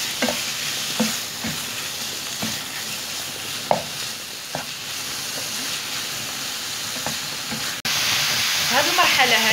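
Chicken breast and onion frying with spices in a pan for a potato tortilla, a continuous close sizzle broken by occasional utensil taps, growing louder and hissier toward the end when more goes in, with brief faint voice.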